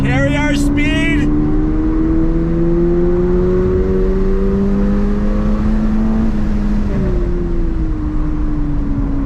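A 2022 Toyota GR86 sports car accelerates hard out of a turn on track, its engine note rising and climbing loud and close, easing briefly before pulling again, with a short burst of voice at the start.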